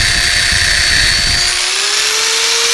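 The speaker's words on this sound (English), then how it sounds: "I'm using a drill with a disc for power sanding." An electric drill fitted with a sanding disc power-sands a turned wooden lamp base, giving a loud, steady high-pitched whine. Grinding contact noise fades partway through and the motor pitch rises slightly as it spins freely.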